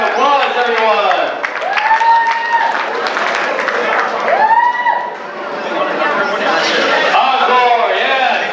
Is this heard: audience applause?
yes